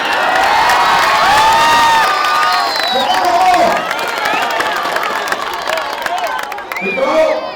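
A large crowd at a BJP campaign rally in Ahmedabad, Gujarat cheers, whoops and claps loudly in a sustained roar, with shouted voices rising above it.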